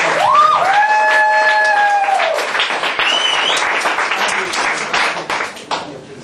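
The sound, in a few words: audience applause and cheering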